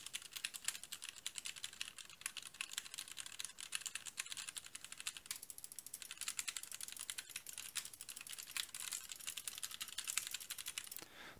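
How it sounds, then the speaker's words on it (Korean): Steady, fast computer keyboard typing and mouse button clicks, crisp and continuous, close and fairly quiet, with no talking. "키보드와 마우스 버튼을 눌러보도록 하겠습니다"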